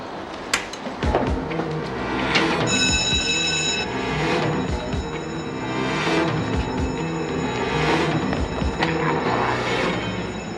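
An alarm bell rings on and on inside a women's prison, a steady metallic clangor that stays loud and unbroken, with scattered thuds and movement under it.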